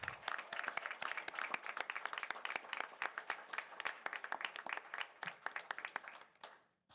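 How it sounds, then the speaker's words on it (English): An audience at a city council meeting claps in a quiet, steady stream of applause that tapers off toward the end. "Let's give these young ladies a round of applause."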